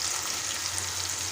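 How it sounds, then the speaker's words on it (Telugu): Tomatoes sizzle as they fry in a pan for rava upma, a steady close hiss of hot oil with no pauses and no voices. "ఇప్పుడు ఇందులో టమాటా వేస్తున్నాను. చక్కగా టమాటా కూడా మెత్తగా అయిపోవాలి."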